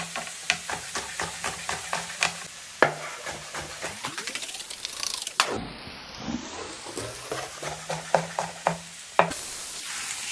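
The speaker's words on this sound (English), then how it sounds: "Pre-slice some onions. Dump into the pan when they're really hot." Sliced onions fry in very hot oil in a pan for a cheesesteak, a steady sizzle punctuated by frequent sharp clicks and scrapes of a utensil stirring against the pan.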